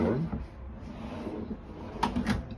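A top drawer in the kitchen of a Hoosier Custom Cruiser camper slides open or shut, giving a couple of soft, brief sliding knocks close by in a quiet interior.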